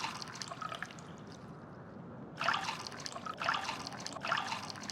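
Water trickles into a liquid container in the survival game Osiris New Dawn, a soft steady flow with brighter splashy bursts coming in three pulses during the second half.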